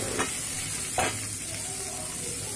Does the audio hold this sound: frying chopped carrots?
yes